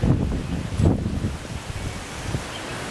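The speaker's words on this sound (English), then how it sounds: "you hear all that windy stuff" Strong wind buffets the microphone in low, rumbling gusts, uneven and close, with no voices.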